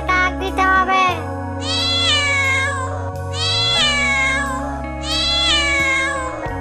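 A person imitates the call of a jungle cat with loud, drawn-out, meow-like wails, three rising calls in a row, close to the listener and with no other talk.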